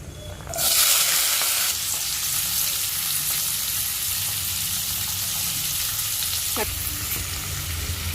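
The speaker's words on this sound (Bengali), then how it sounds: "এবার মা হালকা করে সবকিছু ভেজে নেবে" Vegetables for spicy vermicelli hit hot oil in a pan with a sudden loud burst of sizzling that settles into a steady, dense hiss, with a faint utensil scrape later on.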